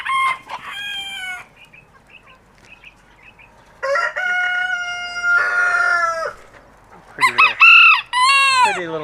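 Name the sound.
chickens and roosters clucking and crowing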